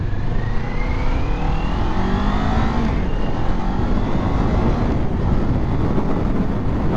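A 2024 Kawasaki Ninja 500 motorcycle is ridden at speed, its engine droning and shifting pitch as it accelerates, heavily buffeted by loud wind noise on the microphone.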